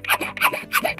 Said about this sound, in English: I'll take a hacksaw and cut that off.